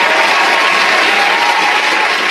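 A dense, loud burst of applause played as a sound effect, continuous crowd clapping throughout with no voices over it.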